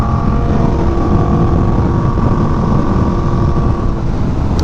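Yamaha R1M sport motorcycle at speed on a warm day, engine droning steadily and loud throughout, blended with heavy wind rush across the microphone.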